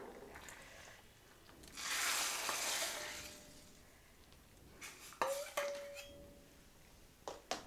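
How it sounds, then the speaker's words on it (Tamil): Tempering seasoning for Madras sambar hits the hot pot in a loud, broad sizzle that swells for about two seconds and fades, followed by sharp clinks of utensils against the pan. "இப்போ நம்ம தாளித்து வச்சுருக்கக்கூடியதை இறக்கி வச்சுருக்கிற சாம்பாரில் போட்டுடலாம்"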